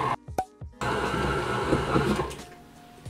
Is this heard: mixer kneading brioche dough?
yes